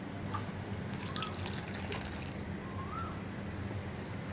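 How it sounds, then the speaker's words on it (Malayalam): A cornflour and water mix is poured into a tapioca chilli gravy, giving a faint, soft trickle and a few light drips against a steady low background hiss. "ഇനി ഇതിലേക്ക് നമ്മൾ മിക്സ് ചെയ്ത് വെച്ചിരിക്കുന്ന കോൺഫ്ലവറും വെള്ളവും ചേർന്ന് മിക്സ് ആഡ് ചെയ്യാം."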